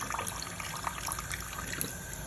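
Water runs from a faucet into a kitchen sink to fill a bath for a pet macaw, a steady close splashing and trickling stream with small drips, no voices.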